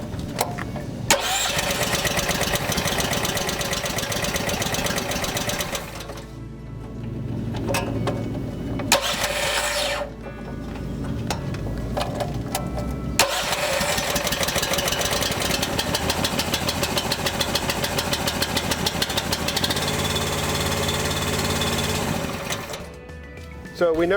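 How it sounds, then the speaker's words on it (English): An EZG Grout Hog grout pump starts up and its auger runs forward, a loud continuous mechanical whir with rapid rhythmic clatter that cuts out briefly twice before resuming, with a person talking over it. "as soon as you start that up now, then the auger should be going in forward direction"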